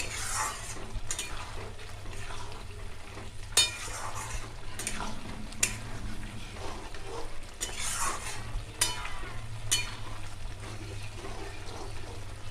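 Poppy-seed paste with potatoes being stir-fried in a pan for Bengali aloo posto, a low sizzle broken by repeated scraping and stirring strokes at irregular intervals over a constant low hum, no one speaking.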